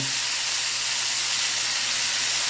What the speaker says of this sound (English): You want to fry them golden brown